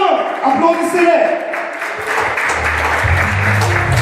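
Audience applause for a church women's group from Drummondville at an anniversary celebration, a steady broadband clatter of clapping with a voice and low music coming in under it.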